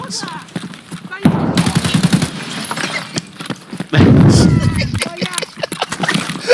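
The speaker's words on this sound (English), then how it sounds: "I just fucking shot each in the back of the head at one time" Gunfire in the video game Escape from Tarkov, loud bursts of rapid shots in two clusters amid other game noise, with a player talking throughout.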